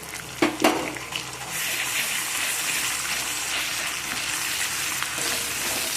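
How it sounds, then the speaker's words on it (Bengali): Chopped garlic and ground ginger paste frying in hot oil in a pan, a steady close sizzle throughout with a few sharp crackles and stirring bumps near the start, no talking. "আমি রসুনটাকে ভালো করে ভেজে নেব"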